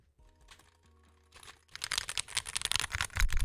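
Keys being typed on a Lego-built keyboard in a gaming setup, starting as sparse light clicks and building into a dense, rapid clatter of keystrokes close by, with no talking.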